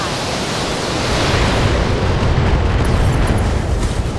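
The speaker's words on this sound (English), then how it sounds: "Glitch, let's spray him with rockets" LRM rocket volley in the Battletech video game, a dense continuous roar of overlapping explosions that swells after the first second and stays loud and broad throughout, with no pauses between blasts.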